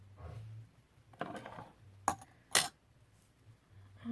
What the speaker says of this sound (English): I'm about to lose my scissors.